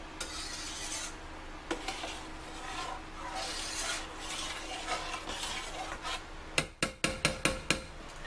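A pepper decoction is stirred in a container with a scraping, rasping swish that repeats steadily and closely, then ends in a quick run of sharp taps.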